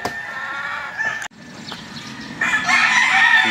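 Bulik gamecock roosters at a breeding farm in Lipa, Batangas, crowing and clucking close by, several overlapping calls with a sharp break midway, loud and clear with no talk.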